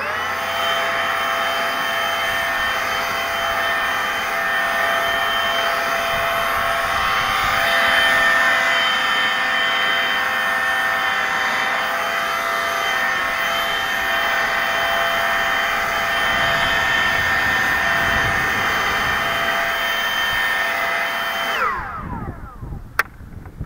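A Stihl BGA56 battery leaf blower runs at a steady high-pitched whine, loud and close, holding constant for about twenty seconds before winding down to quiet with a brief click at the end.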